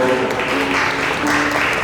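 A wedding ceremony crowd claps in a dense, continuous burst of applause, fairly loud and close, with a faint murmur of voices underneath.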